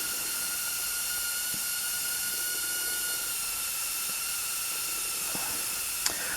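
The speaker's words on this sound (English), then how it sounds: "Sorry for my compressor leaking." A leaking air compressor gives off a steady, high, continuous hiss that runs unbroken in a garage while brake pads are fitted to a Toyota 4Runner, with a few faint clicks and one sharp tap near the end.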